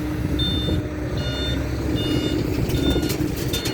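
A truck's reversing alarm beeps steadily, about one beep per second, over a loud rumbling diesel engine.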